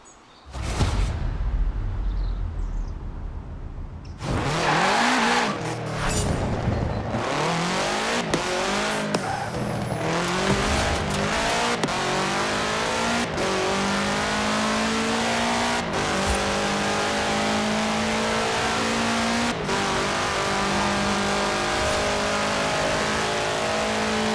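Car fitted with a 2.5-liter four-cylinder turbo engine in the video game Forza Horizon 4, loud and close, revving hard through rising gear sweeps with abrupt shifts, tire squeal and skidding.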